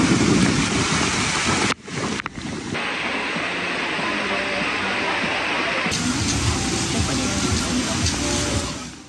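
Heavy rain pours down during an afternoon storm in Boracay, a dense, steady roar close by with a brief dropout partway through and no pause after.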